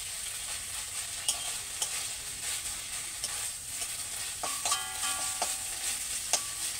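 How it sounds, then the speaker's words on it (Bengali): Ginger and garlic frying in a pan for a Bengali jackfruit and prawn curry, with a steady soft sizzle and scattered scraping clinks of a spoon stirring, close and alone. "আদা রসুনটা দিয়ে আমি কিছুক্ষণ একটু নাড়াচাড়া করে নেব, যাতে এর থেকে গন্ধটা চলে যায় আদা রসুনের।"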